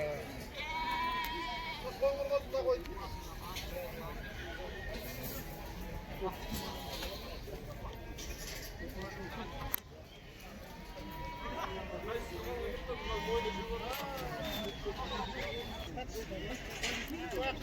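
Lambed ewes and other sheep bleat repeatedly among the crowd at the Karabulak livestock market. Near and distant calls overlap with steady background bustle, and people talk throughout.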